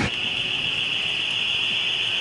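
A loud, steady high-pitched alarm tone blares continuously without a break over faint background rumble.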